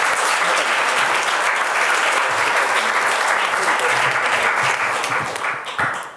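Debate audience at a Catholic event on climate and the economy gives loud, sustained applause, many hands clapping densely from start to finish before it thins out near the end.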